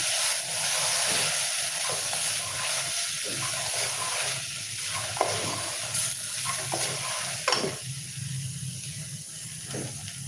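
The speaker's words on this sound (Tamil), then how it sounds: "அடுப்பை சிம்மில் வச்சு நல்லா அந்த மிளகாப்பொடியை வதக்கி கொடுத்துருவேன்" Chili powder sautés in a clay pot over a low flame while kale and lentils are being cooked, giving a steady close sizzle and hiss with soft stirring scrapes throughout.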